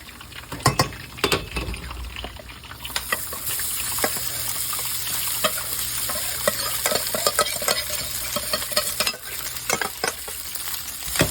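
Cooked rice stir-fried in a hot pan gives a constant close sizzle, with repeated scraping strokes and bright clinks from a utensil knocking the pan as it is stirred.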